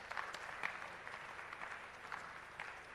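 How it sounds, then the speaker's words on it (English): Faint, distant applause from a conference audience, a low steady patter of many hands clapping with occasional louder claps standing out. "Please give a big round of applause for Ma'am Madhavi"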